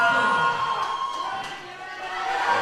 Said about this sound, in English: Crowd's going nuts here